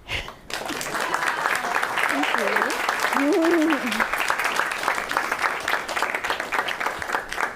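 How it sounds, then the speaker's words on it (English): Audience applause at an evening microbiology talk, a steady broadband wash of clapping running the full length, with a brief spoken thanks over it. "How about another round of applause for..."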